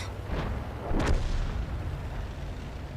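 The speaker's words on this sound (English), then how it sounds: "they still have artillery too." A single artillery shot booms in a tank battle game, a short heavy blast with a sharp crack over a continuous low rumble of engine and battlefield noise.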